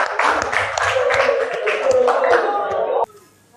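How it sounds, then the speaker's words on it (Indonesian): Audience applause closing a classroom presentation, a dense burst of many hands clapping that stops abruptly, leaving near silence. "Tepuk tangan."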